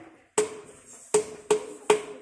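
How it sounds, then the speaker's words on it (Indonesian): Four sharp strikes on a hard resonant stone in a cave in the Pangandaran nature reserve, each ringing with a short pitched tone like a drum, close and spaced irregularly. "Jadi dipukul bunyinya seperti gendang di sini."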